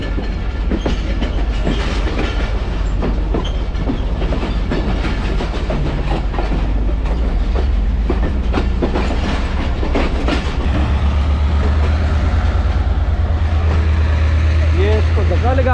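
A train rumbles into a railway station on the Kot Lakhpat to Lahore line, with loud, continuous rolling and clattering wheels close by and people talking over it.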